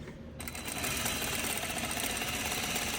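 A sewing machine stitches a seam on a tote bag, starting after a brief pause and running in a steady rapid mechanical chatter close up, with no talking.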